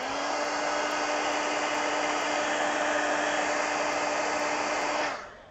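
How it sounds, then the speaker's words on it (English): A heat gun blows steadily while drying fresh paint on an adult colouring page, a loud continuous whooshing hum with a tonal whine that runs unbroken for about five seconds, then cuts off abruptly. "let me hit it with the heat gun just to make sure it's dry"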